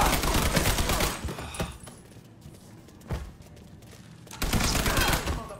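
Bursts of rapid gunfire in Mafia 3, a loud dense volley at the start and again near the end with a single sharp shot between, under a quieter stretch with a voice briefly shouting.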